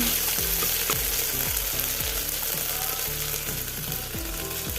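Onions fry in spiced masala with a dense, continuous sizzle, punctuated by repeated rhythmic scraping strokes of a spoon stirring the pan up close.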